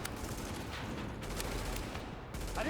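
Distant, fairly quiet gunfire rolls on in a video game firefight against cleaners, with scattered shots forming a continuous crackling fusillade and no voices over it.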